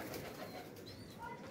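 A pigeon perched on a rooftop gives a soft, brief cooing call, faint and close, over low background noise.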